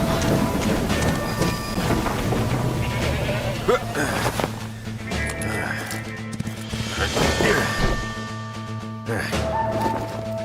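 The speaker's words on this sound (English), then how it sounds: "Stop the train!" A train in the video game My Time at Sandrock grinds to a crashing stop. Squealing metallic brake tones and heavy rumbling rise and fall, with a few jolting clanks, under shouting voices.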